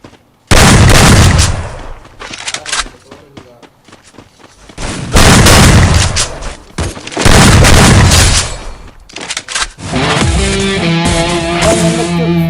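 Loud video game gunfire in heavy booming bursts, a few separated volleys with quieter gaps between, followed by music-like game tones, with players talking.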